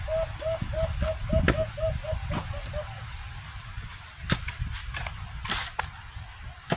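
A wild bird in the rural Philippine countryside answers a call with a quick run of about ten short, evenly spaced coos, fairly close and clear over low outdoor rumble, followed by scattered clicks and rustles.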